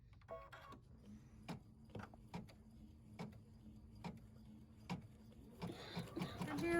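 Embroidery machine stitching a holiday design, a quiet steady mechanical chatter with regular clicking thumps every half second or so, growing busier and louder near the end.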